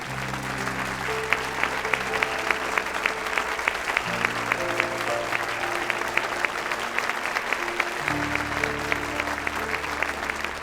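Applause from a stage audience as a speaker is called up, dense and steady clapping throughout with musical tones sustained underneath.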